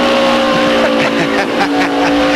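A NASCAR stock car engine roars loudly and continuously during a 1999 race, a droning high-revving whine with shifting tones as cars pass.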